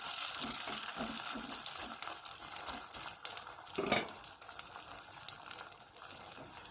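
Sliced ivy gourd (kovakka) frying in a pan, a continuous soft sizzle with crackling and scraping stir noises, one louder clatter midway, no talk.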